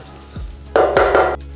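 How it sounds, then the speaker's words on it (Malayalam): Roasted masala and sliced onions for Kerala beef chaps being stirred in a hot pan, a few short scraping, sizzling strokes close by, fairly loud, with no voices. "നന്നായി റോസ്റ്റ് ചെയ്തതിന് ശേഷം ബാക്കിയുള്ള സവോളയായിട്ട് മിക്സ് ചെയ്ത്"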